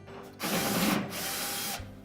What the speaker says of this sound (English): We'll start by removing these two screws that secure that top panel.